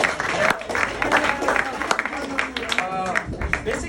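Audience clapping at a college gathering comes in bursts of scattered hand claps, mixed with people talking loudly over and between them.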